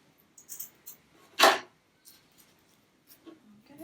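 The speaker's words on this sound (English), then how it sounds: "Oops, drop my scissors." Scissors drop with a single sharp clatter during a home craft session gluing paper grass, a bright impact standing out among faint rustles and handling noises.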